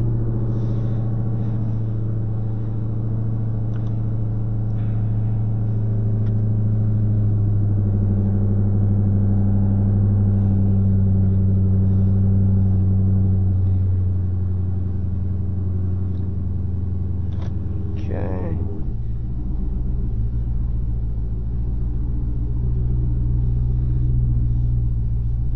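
Car interior during a cold start and drive, a steady low engine and road rumble droning close and loud throughout, with a brief change in tone near the end.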